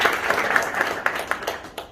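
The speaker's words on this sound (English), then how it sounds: "another round of applause" Applause from an audience at a small award or recognition event, moderate and fairly close, with individual claps standing out as it thins and fades over a couple of seconds.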